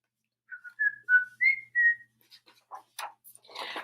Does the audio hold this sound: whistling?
yes